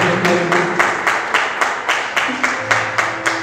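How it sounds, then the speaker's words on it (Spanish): A crowd claps together in a steady, quick rhythm, a loud run of regular claps with faint tones and voices underneath. "Denle un aplauso."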